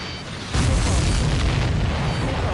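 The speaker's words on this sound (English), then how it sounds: "Did you see that explosion?" An explosion in the Ace Combat 7: Skies Unknown jet combat game on PS4 sets off a sudden loud deep boom, followed by a sustained roaring rumble that holds for the next two seconds.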